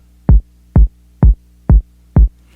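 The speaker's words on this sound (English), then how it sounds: "we have the kick, which sounds like this." Kick drum loop in a classic four-on-the-floor pattern for a dance-pop remix, five deep punchy thumps evenly spaced about half a second apart, loud and dry with nothing else playing.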